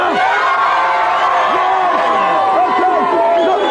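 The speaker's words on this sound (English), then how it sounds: "Go on, give him a cheer!" A studio audience on a British video game TV show cheers, whoops and shouts loudly and continuously, a dense crowd roar with scattered yells rising throughout.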